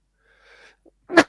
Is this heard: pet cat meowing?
no